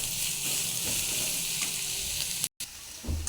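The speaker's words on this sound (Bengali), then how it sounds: "পেঁয়াজ আর লঙ্কা দেওয়া হয়ে গেলে সেগুলোকে একটু ভালোভাবে নেড়ে চুড়ে লাল করে নিতে হবে," Chopped onion and green chilli sizzle loudly and steadily in hot oil in a pan, with occasional stirring scrapes close up and a brief cut near the end, no voices.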